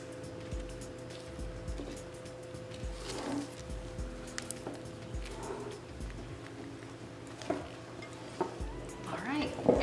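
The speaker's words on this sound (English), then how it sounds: "Continue mixing with our spatula." Carrot cake batter and flour are folded together with a spatula in a bowl, giving soft, repeated scraping strokes at a steady rhythm over a low background hum.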